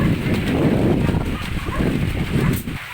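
Muscovy ducks about 80 days old calling on a farm in light rain, a steady dense chorus of low, hoarse bird calls close by with no talk.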